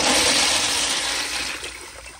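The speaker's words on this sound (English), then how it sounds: "So now I'll give y'all another flush viewing the rim jets" Water rushes steadily through a Kohler Bardon washdown urinal as it flushes from the rim jets. The loud, close wash holds steady and then slowly tapers off.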